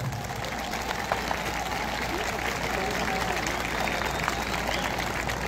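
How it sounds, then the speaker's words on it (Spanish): Crowd applause rises from the stands at a nighttime bull riding event in Mexico after a champion bull is named, steady clapping and murmur under a loud, echoing arena announcer's voice. "Ahí está, aplausos"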